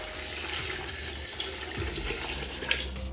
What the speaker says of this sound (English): Just pour water in.